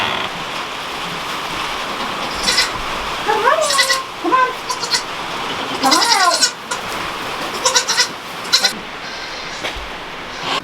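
Farm animals, likely goats, bleat in the rain, several separate calls rising and falling over a steady wash of rainfall, some close and loud, others softer.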